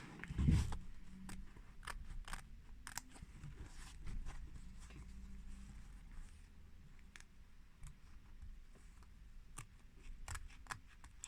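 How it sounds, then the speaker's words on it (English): Sparse, quiet snips of scissors cutting away the inner fabric layer of a reverse appliqué piece, with occasional soft clicks and rustles spaced irregularly over a low background. "You're going to work your way all the way around, cutting away that fabric from the inside."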